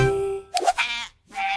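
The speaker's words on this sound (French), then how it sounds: "les moutons marchent avec fierté" A sheep bleats in a few short, wavering calls that stop briefly and then resume, close and clear with no talking.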